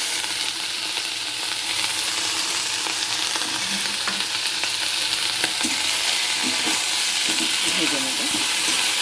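Tilapia pieces fry in a little oil in a wok for a Bengali tilapia jhal, giving a continuous bright sizzle with occasional scraping stirs and faint steam hiss, steady and close throughout.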